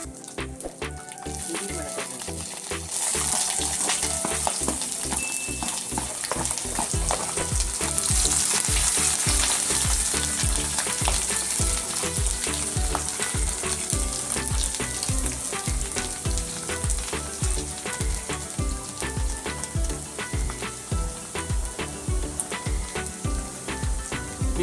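Ginger and garlic sizzle and fry in hot oil for Kerala-style bread roast, a loud, steady crackle with no break, with stirring clatter under it.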